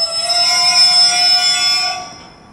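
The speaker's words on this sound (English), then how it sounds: "About to pass through on platform 3 will be another LNER 225 set." An LNER Azuma (class 800/801) high-speed train sweeps through platform 3 at Peterborough on the East Coast Main Line, giving a loud, steady whine with high tonal hum that swells, holds, then fades away over a couple of seconds.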